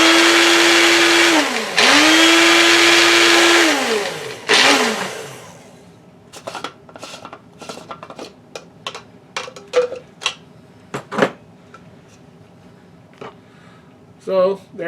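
An electric blender whirs loudly as it blends wool for fly-tying dubbing, its motor pitch dipping and rising through two close runs, then stops and gives way to scattered light clicks and handling taps.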